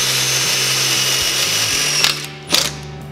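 A power drill drives a sheet metal screw into a trailer, its motor whirring steadily, pulsing and stopping briefly, then two sharp bursts of the screw seating near the end.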